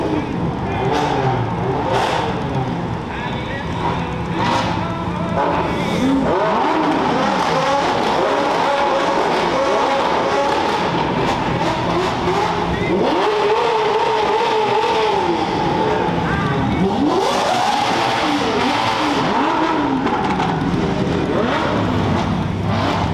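Supercars taking over a gas station rev hard, accelerate and squeal their tires in repeated loud bursts, engines rising and falling close by, with voices and crowd noise underneath.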